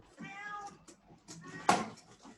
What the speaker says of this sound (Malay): Aduh, kucing ni.